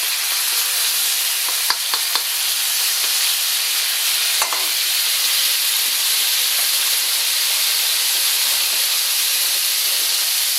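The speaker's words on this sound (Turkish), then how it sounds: "baharatı yakmadan hemen üstüne suyunu gezdirmeniz lazım" Water poured over spices in a hot tantuni pan gives a loud, continuous hissing sizzle with steam, steady for the whole stretch, with a few sharp clicks from utensils early on and no talking.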